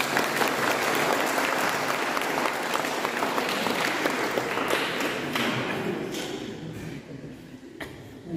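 A church congregation applauds during a Mass, with dense, sustained clapping that fills the space and gradually thins out toward the end.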